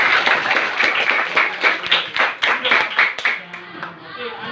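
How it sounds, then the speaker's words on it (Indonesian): Sixth-grade schoolchildren clap together in a primary school classroom during a science lesson, a run of sharp, fairly rhythmic claps with voices mixed in, easing off and fading toward the end. "Tepuk tangan buat kita semua."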